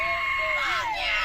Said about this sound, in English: That is one of the worst fucking scream sounds I've ever heard in my life.